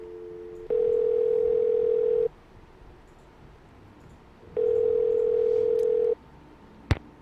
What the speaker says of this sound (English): Alright, we're gonna call Tino Balducci.